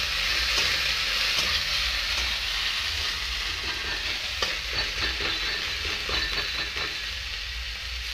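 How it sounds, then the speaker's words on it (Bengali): Onion, ginger and garlic paste fries in hot oil for a green banana kofta curry, giving a loud, continuous close sizzle with a burst of quick clicking stirs around the middle. "পেঁয়াজ আদা আর রসুন পেস্ট করে নিলে দেখো ভালোভাবে ভাজিয়ে নেব লাল লাল যতক্ষণ না তেল ছাড়ছে।"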